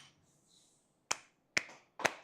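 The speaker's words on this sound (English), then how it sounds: "We clap for ourselves." People clapping for themselves, three short sharp claps or snaps spaced about half a second apart in a quiet room, close and crisp.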